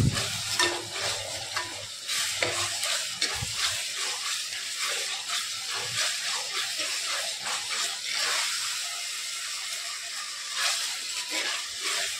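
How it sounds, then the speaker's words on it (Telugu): Pieces of freshwater korameenu fish and curry ingredients fry in oil in a pan, with a steady close sizzle and occasional stirring scrapes running throughout without pause. "ఇది కూడా బాగా ఫ్రై అవ్వాలి, వేగాలి కొంచెం ఆయిల్లో"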